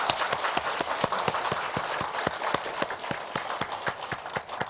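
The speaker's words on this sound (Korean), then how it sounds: "박수 한번 쳐주세요" An elderly audience at a Korean Bible lecture claps in unison, a steady rhythmic beat of sharp, even hand claps at a regular pace, fairly close and lively, with no talking.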